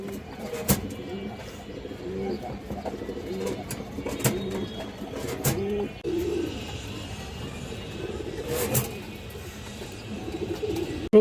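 Pigeons cooing in a loft where birds are sold, including a large old-line Bagha hen pigeon, low repeated coos over noisy surroundings, with sharp knocks and a passing rumble like a train.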